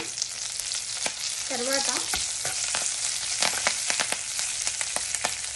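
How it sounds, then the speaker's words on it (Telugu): Curry leaves hit hot oil with fried urad dal for an eggplant chutney tempering, a steady hiss broken by sharp pops and crackles, with a brief spoken word over it. "మినపప్పు వేగిపోయింది, ఇప్పుడు కరివేపాకు వేస్తున్నాను"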